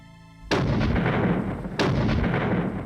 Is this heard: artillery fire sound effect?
yes